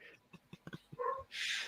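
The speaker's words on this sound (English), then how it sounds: "Who has a dog in the background?" A pet dog named Jack makes a few faint, short yelps and whimpers off in the background of a live online show, quiet and far from the microphone.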